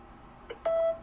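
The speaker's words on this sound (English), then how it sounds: "Message after the beep." A short blip followed by a single clear electronic tone held for about a quarter second, like a voicemail beep over a quiet line hiss.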